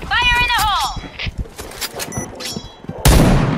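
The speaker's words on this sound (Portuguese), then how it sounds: "Tô vendo uns tiros aí" Gunfire crackles in a shooting video game, with scattered shots and a louder burst near the end, mixed with a player talking excitedly over the action.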